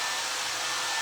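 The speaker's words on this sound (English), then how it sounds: "So take your dryer, move the air around a little bit." A handheld hair dryer blows air steadily, a loud, unbroken whooshing hiss with no voices.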